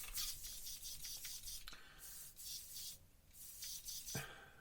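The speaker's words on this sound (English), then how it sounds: "we can hear it's got a nice draw in the colour cup" A Gaahleri airbrush on a generic air hose with a quick-release coupling draws air through its colour cup, giving faint, close, breathy hissing bursts that rise and fall in short pulses.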